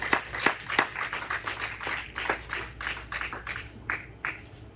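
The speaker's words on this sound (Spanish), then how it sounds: "No sé si da un fuerte aplauso al Señor por esta verdad." A church congregation applauds during a sermon, with steady irregular hand claps from many people, moderately loud and continuing throughout with no talking.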